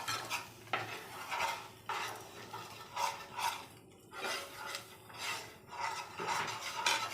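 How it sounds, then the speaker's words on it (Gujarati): Three spoonfuls of maida flour are stirred into heated butter in a pan for a white sauce, giving soft, rhythmic scraping strokes that stay faint and repeat steadily, with no talking. "3 ચમચી નાખી દેવાનું અને એને ફેરવી દેવાનું."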